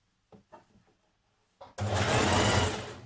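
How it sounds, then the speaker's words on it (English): A few soft handling knocks, then a sewing machine starts and runs at a steady, loud whir, stitching a dress sleeve hem close by. "I'm going to stitch that the whole way around."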